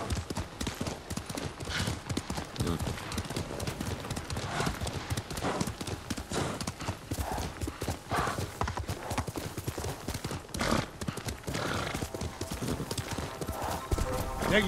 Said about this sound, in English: way the horse rides in this game. Feels nice.